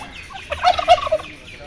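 A short burst of rapid, warbling gobbles from a nearby turkey, lasting under a second amid quiet background.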